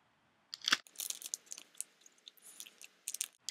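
Someone bites into and chews a peanut butter cookie close to the mic, with a sharp crunch at the first bite followed by a run of softer, irregular chewing crackles.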